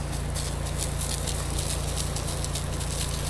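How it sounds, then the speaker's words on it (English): Rain falls steadily during a roof and house wash in Florida. It makes a continuous, even hiss of patter, with no talk over it. "The rain should let up here in a second."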